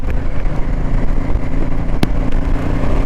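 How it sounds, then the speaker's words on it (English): A car approaches and passes close by a moving motorcycle on an open road, its rush building to a brief loud peak, all over a steady engine and wind roar. "Now we've got a car coming towards"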